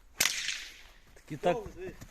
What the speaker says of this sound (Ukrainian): Добре стріляє? Ну, фестик. Довгий батіг.